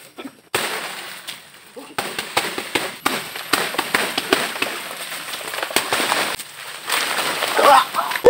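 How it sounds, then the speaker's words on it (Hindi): Repeated hits from beating a banana tree trunk to knock it down outdoors, irregular thumping and crackling strikes through the clip, with people talking over them. "काटूंगा नहीं, मार मार के उसे तोड़ूंगा।"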